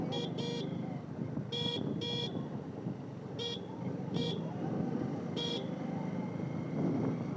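Car horns honking repeatedly in a highway traffic jam heard from a motorcycle, several short, moderately distant beeps over a steady rumble of idling engines and road noise.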